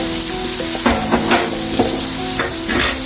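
A side dish seasoned with flavoring powder, pepper and salt sizzles loudly and continuously in a frying pan, with a utensil scraping and clinking against the pan several times as it is stirred.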